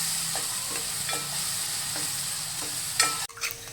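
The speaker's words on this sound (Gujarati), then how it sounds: "પહેલાં આપણે ડુંગળી નાખવાની." Chopped onion sizzles steadily in hot peanut oil for a green corn chevdo snack, a continuous bright frying hiss broken by occasional stirring scrapes and a sharper clatter near the end.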